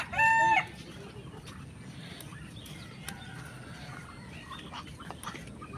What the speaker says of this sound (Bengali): এখানে অনেক হাঁস মুরগি আছে